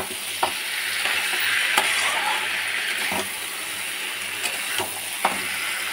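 Fish with spices sautéing in a pan for a Bengali-style curry, a steady close sizzle with occasional sharp clicks of a spoon or spatula stirring against the pan.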